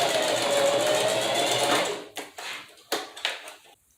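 Sewing machine stitching back over the folded edge of a wig track at a lace closure ear tab, a steady close mechanical whir for two seconds, then a few short stop-start bursts.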